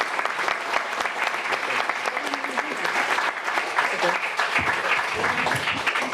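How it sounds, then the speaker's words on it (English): An audience at a cooperative financing event applauding a panel, with continuous dense clapping held at an even level from start to finish. "a round of applause for our luminary panel here"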